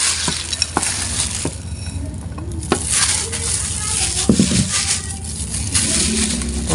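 A spoon stirs and folds Nestle cream and condensed milk together with cookies in a bowl, a steady close wet scraping and sloshing with soft clinks against the container, continuous throughout.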